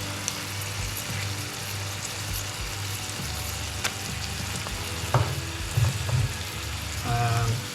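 Tomato paste sizzling as it is added to a hot pan for Italian cheesy wraps, a steady crackling fry with a few stirring knocks and spoon scrapes near the end, moderately loud and without talk.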